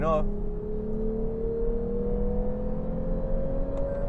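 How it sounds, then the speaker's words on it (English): The engine of a 2021 Lexus IS 350 F Sport sedan hums and slowly rises in pitch as it accelerates, a smooth steady drone heard from inside the car after a brief voice at the start. "I like the noise that comes from that engine"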